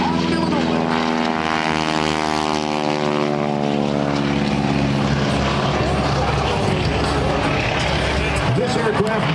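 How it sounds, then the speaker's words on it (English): Boeing PT-17 Stearman biplane, a World War II primary trainer modified with double its original horsepower, roaring loudly at an airshow as its engine pitch sweeps downward while passing, under a public-address announcer's voice. "This aircraft modified from its original form with double the horsepower of the original World War II trainer."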